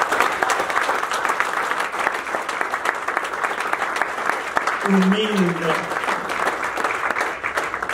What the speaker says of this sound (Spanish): Denle un aplauso a su Señor.